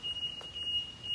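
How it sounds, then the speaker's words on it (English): A car alarm sounds faintly in the background, holding a thin, steady high-pitched electronic tone with brief breaks, with no one talking. "car alarm"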